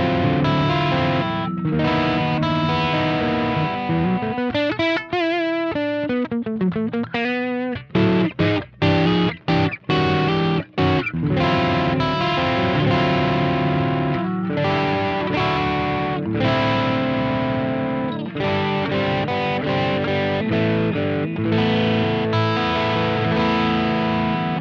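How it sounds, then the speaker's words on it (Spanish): An electric guitar runs through a Tube Screamer overdrive pedal on a pedalboard, playing loud, continuous distorted chords and riffs with brief choppy stops midway and no talking. "Primero el Tube Screamer"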